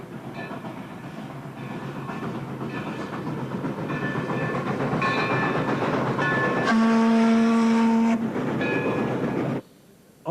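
A steam locomotive runs on a South American main line in Chile, its wheels rolling steadily with a clattering rhythm, and a sustained whistle rings out for a few seconds before the sound cuts off abruptly.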